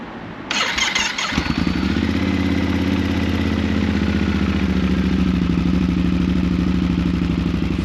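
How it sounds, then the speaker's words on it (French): Motorcycle fitted with a road-legal aftermarket exhaust starting on a cold day in Bordeaux, cranking briefly before catching and settling into a loud, steady, throbbing idle close by. "Je vais rallumer la bécane"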